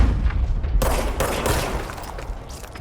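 Dense bursts of enemy gunfire from the video game Control, a loud sustained barrage with overlapping shots and booms that rises sharply and rolls on without pause.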